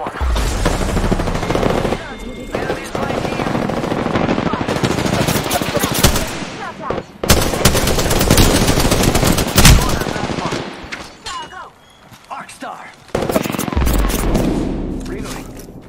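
Bursts of gunfire from the Apex Legends video game, with automatic weapons chattering in dense runs and brief gaps between volleys, loud and close throughout, with short pauses before the firing resumes.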